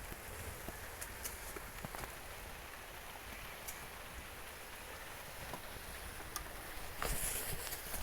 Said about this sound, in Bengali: এক আর এক বৃষ্টির দিন,